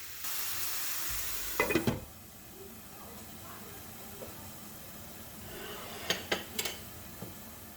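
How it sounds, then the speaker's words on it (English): Spicy Mediterranean kebab meat patties fry under a lid in a covered pan, giving a steady low sizzle with a louder hiss near the start. A few sharp clatters and knocks follow, briefly at first and again later. "We're going to cook the meat until both sides are brown."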